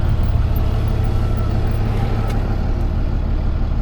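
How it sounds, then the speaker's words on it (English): A steady, loud low roar with a droning hum fills the whole stretch, like an aircraft passing overhead, continuous without breaks. "Yeah, it was an airplane, not me."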